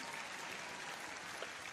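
Audience applause fills an arena at a show jumping Grand Prix World Cup qualifier, a dense, steady clapping from a large crowd heard throughout.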